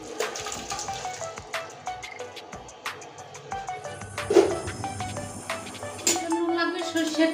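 Liquid is poured into a cooking pot while a spice-free vegetarian bottle gourd dish is made. A splashy, trickling pour is heard close by, mixed with small clicks and knocks, under someone talking.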